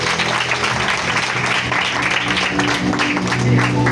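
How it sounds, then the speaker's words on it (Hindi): A church congregation claps loudly together, a dense, sustained burst of applause with some voices and shouts mixed in. "जोरदार ताली कलाम कीजिए।"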